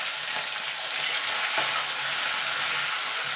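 Prawns and nigella seeds fry together in a hot pan, giving a constant close sizzle with a light stirring scrape partway through.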